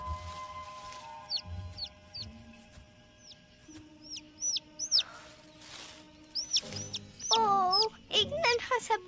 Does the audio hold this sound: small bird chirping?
yes